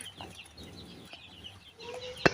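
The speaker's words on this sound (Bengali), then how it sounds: "এই যে মুরগি এখন খুলতেছে" Fayoumi chickens cluck faintly as their crates are opened on arrival, with soft scattered calls and light handling noise in the background and a brief sharp clatter near the end.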